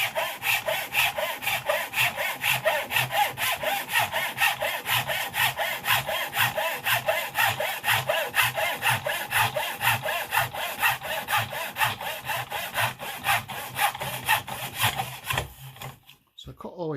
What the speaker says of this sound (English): I'm going to start the saw.